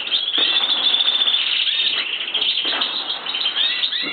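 Pet goldfinches chirp and twitter continuously in a busy, close chorus of bright repeated calls, with occasional brief flutters, and no one speaks.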